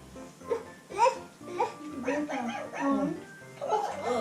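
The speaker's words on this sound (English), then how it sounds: "Dog. Dog." A dog barks and yips repeatedly up close in an irregular rhythm, mixed with excited whimpering sounds.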